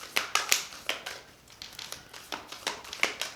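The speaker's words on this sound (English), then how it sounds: "Let's get a proper shuffle." Tarot cards are shuffled with a series of quick, soft riffling and tapping bursts, close by and fairly quiet, in an uneven rhythm.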